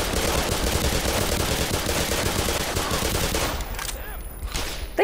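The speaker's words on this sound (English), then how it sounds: "who is shooting the shit out of me?" Gunfire in the Black Mesa video game, a continuous loud barrage of rapid shots and blasts that thins out over the last second.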